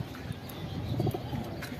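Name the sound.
pigeon cooing, a guest female pigeon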